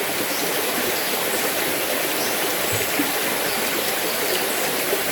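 A river flowing steadily with a constant, fairly loud rushing of water and no other sounds standing out.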